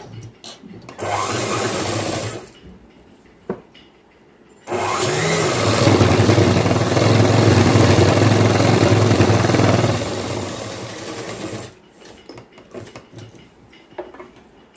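Sewing machine stitching the folded button placket of a boys' school uniform shirt: short whirring runs, then a long steady loud burst of stitching, then stopping with light handling noise.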